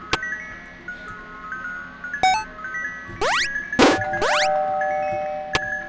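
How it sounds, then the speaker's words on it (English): A doorbell chimes inside Chica's Secret Party, a FNaF fan video game, with a few bright ringing tones and gliding electronic sweeps over a faint hum. "That doorbell."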